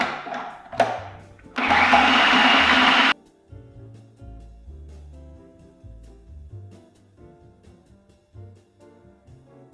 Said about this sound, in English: So now just blend everything.